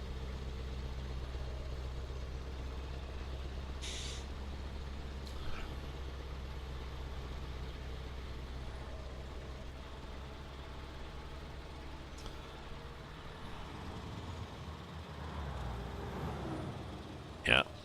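A heavy truck engine in Euro Truck Simulator 2 drones steadily at low pitch throughout, idling or cruising, with a few brief clicks and a short louder burst near the end; no one talks.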